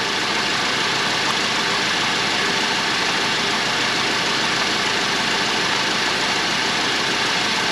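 A VW Golf Sportwagen Mk7 engine idles steadily during a DSG gearbox fluid service, a constant, even drone held at one level throughout with no speech.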